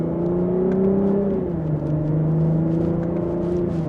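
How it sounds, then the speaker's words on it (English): A 2025 Lexus IS350 F Sport's engine and exhaust drone steadily under acceleration in second gear, sport mode, active sound control on, the pitch holding then dipping briefly before rising again, with a constant low rumble throughout. "so just so you can at least hear a little bit of the exhaust for the 350"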